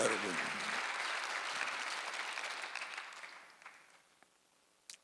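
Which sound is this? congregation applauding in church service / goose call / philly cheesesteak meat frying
congregation applauding in church service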